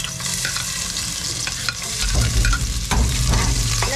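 Ginger, garlic and onion sizzle loudly in a hot pan while being stirred, a dense continuous frying hiss with scraping stir strokes, growing heavier partway through.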